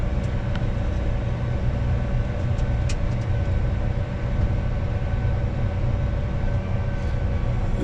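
A John Deere 8R 370 tractor engine pulls a heavy corn cart loaded to about 20,000 pounds, giving a steady, loud, close-up drone and rumble that holds evenly throughout with no voices.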